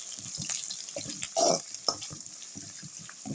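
Curry leaves, onions and garlic dropped into a hot mustard seed tempering for a ridge gourd curry: close crackling and sizzling with a sudden louder burst as the ingredients hit the oil, then continued spattering and stirring.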